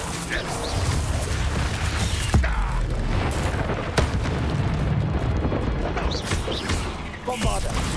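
Bombarda explosion spells in a Harry Potter-style video game duel, with several heavy booms and crashes bursting over continuous rumble while spell names are shouted over the blasts.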